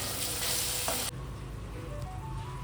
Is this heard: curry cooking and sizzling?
yes